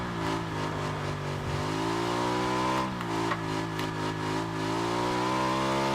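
A motorbike engine in the video game PUBG hums steadily at a mid pitch, close and constant, with slight shifts in revs.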